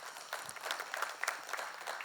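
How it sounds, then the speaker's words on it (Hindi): Audience at a live music competition applauding the accompanying music group, a soft, somewhat distant patter of many hands clapping, with a few louder claps poking through. "इनके लिए भी जोरदार तालियां हो जाए"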